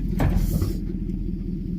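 A sharp knock of something striking a truck lands near the start, followed by a low, steady engine rumble idling close by.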